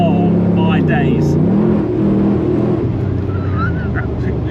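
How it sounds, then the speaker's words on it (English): Land Rover Defender with a 550hp LS3 V8 accelerating hard, a loud sustained engine roar climbing in pitch through a gear change as the vehicle kicks down, heard from inside with people talking over it. "So this isn't so much of a 0 to 60 test, but it's an exuberant acceleration."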